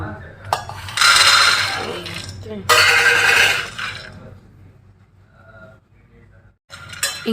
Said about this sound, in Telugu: దానికోసం ఇక్కడ పల్లీలు అయితే వేయించుతున్నాను, పల్లీ చట్నీ చేద్దాం అన్నట్టుగా